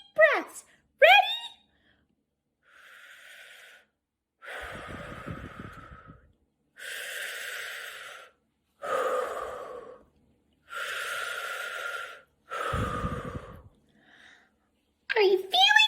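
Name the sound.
deep breathing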